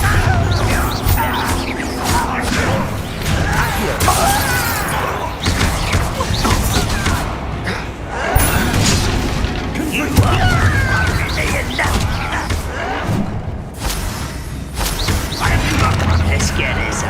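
Spell blasts and explosive booms from Hogwarts Legacy on PS5, repeated crashes and impacts layered over continuous game music and effects, with a character voice calling out between hits.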